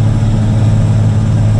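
A Caterpillar 120K motor grader engine roars with a loud, steady low rumble while clearing overgrown brush along a highway, the diesel note holding strong without pause.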